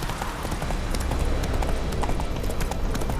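Horse hooves clip-clop in a steady gallop through The Witcher 3: Wild Hunt, a busy rhythmic patter of beats over rumbling in-game ambience with no talk.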